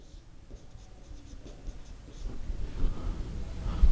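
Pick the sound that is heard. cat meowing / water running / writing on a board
writing on a board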